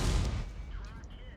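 A tank shell strikes an M48 tank in World of Tanks, a loud, close boom with a brief crackling rumble that slowly decays over a second, alone without talk.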